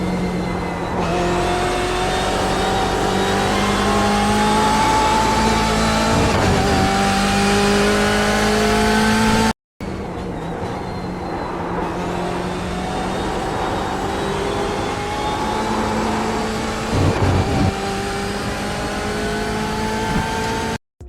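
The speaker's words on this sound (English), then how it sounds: "in the second clip you can hear more clear the tire sliding compared to the first clip" Race car in iRacing, engine holding a steady high drone through two passes separated by a brief cut, with rising and falling pitch and faint tire sliding under the engine, no voices.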